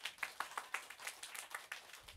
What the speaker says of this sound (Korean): 우리 아이들 잘할 수 있게 이렇게 박수 쳐주신 줄 믿고